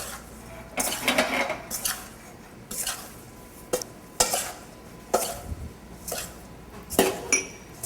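A spoon scrapes and clinks against a pan as a sugar and cornstarch mixture is stirred over heat, in uneven bursts of metallic knocks between quieter pauses.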